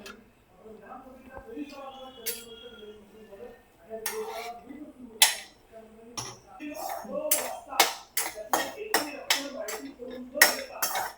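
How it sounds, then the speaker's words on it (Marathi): Cashews dry-roasting in a pan without oil for mutter paneer, heard as sparse clinks and rattles at first that grow into a busy run of sharp metallic clatters from stirring. "आता काजू भाजून घ्यायचंय. तेल काय ओतायचं नाही आपल्याला."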